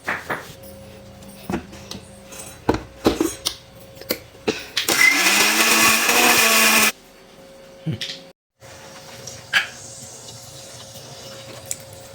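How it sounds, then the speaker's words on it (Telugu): Mixer grinder blending chicken for a full chicken joint recipe: a loud, steady whirring roar running about two seconds in the middle, with scattered clicks and handling knocks before it and then quiet afterward. "అయితే ఇప్పుడు మనం దీన్ని మిక్సీ చేసుకుందాం"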